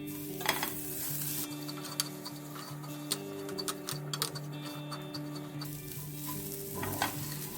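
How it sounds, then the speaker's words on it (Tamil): Grated coconut roasting in ghee in a pan over a medium flame, a steady close sizzle with small scraping stir clicks scattered throughout, no voices. "மீடியம் ஃப்ளேமில் வச்சு வறுத்துக்கோங்க."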